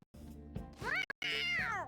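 A cat meows in the Persona 5 video game, giving two drawn-out, clear meows close up, the second longer and rising and falling in pitch, with no speech.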